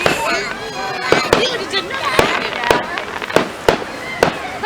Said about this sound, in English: They've got a lot of fireworks to be doing there.